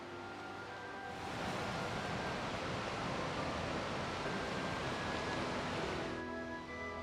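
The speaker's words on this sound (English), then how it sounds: "There is a waterfall at the end of the lake called the Waterfalls." Waterfall at the end of a small lake along a Norwegian river trail, a steady broadband rush of falling water rising in after a second and holding constant, with no voices.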